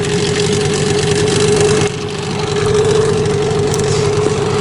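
A Mikatsu 9.8 outboard boat motor on a new boat idles loudly and close, a continuous rough, throbbing drone that dips briefly midway, with no talk.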